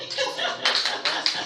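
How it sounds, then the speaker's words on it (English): Brief audience applause at a talk on generating wealth, a short burst of clapping with light chuckles mixed in. "Okay, round of applause."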